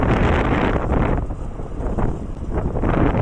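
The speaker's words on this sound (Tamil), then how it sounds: "காற்று ரொம்ப அதிகமாக அடிக்குது காய்ஸ். காற்று ரொம்ப அதிகமாக இருக்குது." Strong wind buffets the microphone outdoors with a loud, continuous roaring rumble that eases briefly in the middle and then surges again, with no voices.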